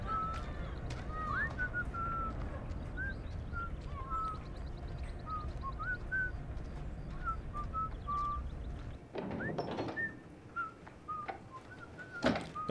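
Whistled calls in the House of Ashes video game, a series of short bright whistles repeating over a low rumbling background, followed near the end by a louder burst of noise.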